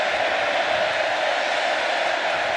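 Steady roar of a large stadium crowd at a Samford vs Texas A&M college football game, a dense continuous wash of massed voices holding level throughout.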